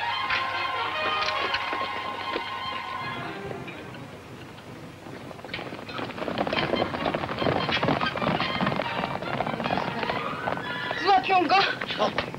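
Horse galloping and neighing in a 1955 Polish film set in Podhale, hoofbeats rising after a quieter stretch and a whinny near the end, mixed with other film sound.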